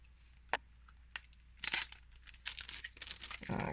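Plastic wrap being torn and crinkled off a box of oracle cards, with a few sharp rips followed by a longer run of close crackling and rustling, and no talking.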